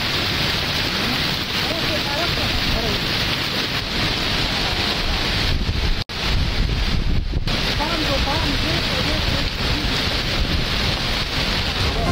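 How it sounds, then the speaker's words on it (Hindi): Heavy downpour in Tank and Lower Dir, a dense, steady roar of rain, loud and continuous, broken by one brief dropout partway through. "टांग और दीर लोयर में मूसलाधार बारिश"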